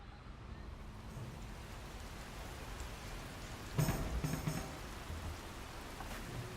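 Rain falls in the fantasy strategy game For the King, a soft, steady hiss throughout with a brief louder patter of drops around the middle.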